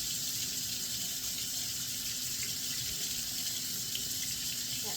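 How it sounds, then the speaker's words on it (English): Water running steadily from a sink tap, a continuous hissing splash at moderate volume with no voices. "Now we're going to start by turning the water on so it's warm"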